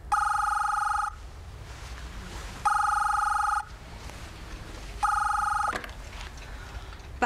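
An old-style telephone bell rings in three loud, evenly spaced bursts of about a second each over a quiet room, with short gaps between rings.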